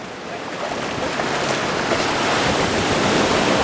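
Ocean surf rolls in along Bojo Beach on the West African coast of Ghana, a steady, loud wash of breaking water that swells slightly and never pauses, with no voices over it.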